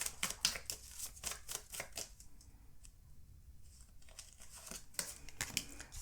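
Tarot cards are drawn and laid out close by in quick bursts of papery shuffling, flicking and crinkling, pausing briefly midway before resuming, with no talking.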